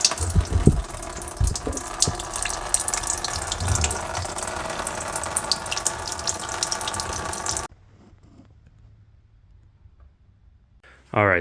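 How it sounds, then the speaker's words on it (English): Coolant pours steadily from a 3rd gen 4Runner radiator drain into a catch pan, a continuous close splashing rush that stops abruptly partway through, leaving near silence before a brief noise at the end. "Just make sure that your pan is under there so it'll catch all the coolant."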